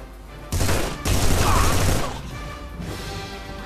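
Grenade launcher blasts in The Punisher video game land as two loud, booming explosions half a second apart, their rumbling debris decaying over a couple of seconds against low background noise.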